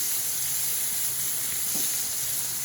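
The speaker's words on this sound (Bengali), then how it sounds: "বেগুন ভাজি করতে গেলে কড়াই নষ্ট হয় এটাই সমস্যা" Steady sizzling hiss of brinjal frying in a pan, continuous and fairly loud, with a faint scrape of stirring near the end.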